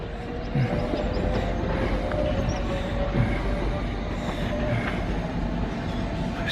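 A freight train rumbles steadily into platform 3 at Ealing Broadway station, a continuous low, even roar with faint wheel noise, moderately loud throughout.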